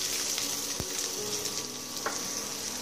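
Onion hits hot oil with cumin seeds in a pan, a loud, close, continuous sizzle with a couple of sharp utensil clicks and no talking.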